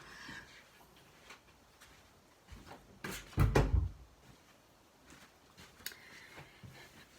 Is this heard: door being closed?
yes